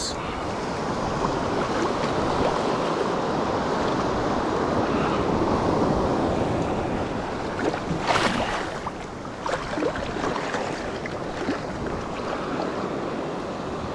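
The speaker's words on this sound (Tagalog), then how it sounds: "Lalakas ng alon, no?" Strong ocean waves surge and wash around a small boat at sea, a continuous loud roar of rushing water mixed with wind buffeting the microphone, and a voice briefly heard.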